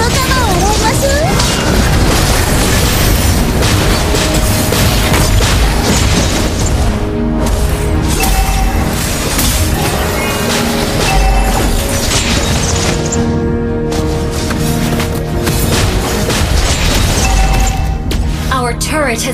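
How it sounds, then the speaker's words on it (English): A turret explodes during a Mobile Legends match with deep booms and crashes, buried in a constant dense wash of game music and effects while an announcer-style voice speaks. "Our turret has been destroyed."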